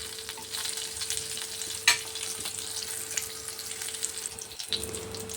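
Chillies fry in a pan with a steady sizzle, broken by light scraping strokes of a spoon stirring them through, with no talking.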